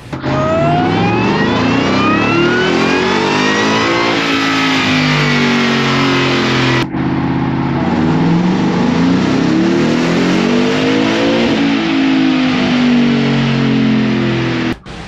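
A stock Ford F-150 Raptor R engine roars loud and close on a dyno pull, its pitch climbing steadily through the gears. A brief break comes partway through, and then the engine winds up again to another long high-rpm pull.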